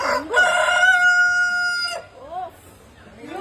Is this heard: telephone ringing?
no